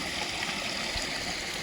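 Water churning and splashing in a koi pond, a steady broadband wash with faint bubbling, close and continuous with no voices.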